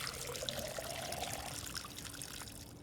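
Water pours in the video game Schedule 1, a continuous trickling stream over a steady hissy background for about a second and a half, then fading into noise.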